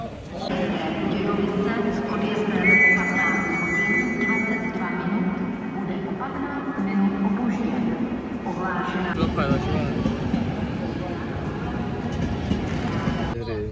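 A train to Vienna rolls along with a low, continuous rumble and clatter inside the carriage, while people talk over it throughout.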